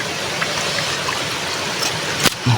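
Fresh, clean water flows and trickles steadily close by with a constant bubbling rush, and a few faint knocks and splashes come near the end.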